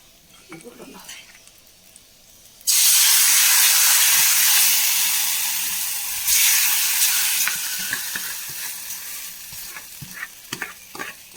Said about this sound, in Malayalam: നന്നായി വറവായി നമുക്കത് കറിയിലേക്ക് ചേർത്ത് കൊടുക്കാം